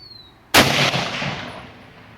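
A single loud M1 Garand rifle shot fired with ball ammunition outdoors, a sharp crack followed by a long decaying rumble, with no talking.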